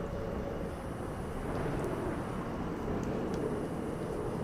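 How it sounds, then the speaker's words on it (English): A jet aircraft passing overhead outdoors, heard as a steady, continuous broadband roar that holds level throughout with no talking. "I hear a jet."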